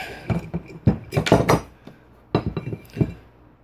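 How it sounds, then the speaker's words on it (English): A valve spring compressor tool for a GY6 engine's valve springs is backed off, giving a quick series of metallic clinks and rattles in short bursts, close and fairly loud. "all you do is back your compressor tool off"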